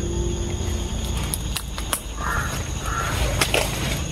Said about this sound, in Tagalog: Yung mga uwak na to.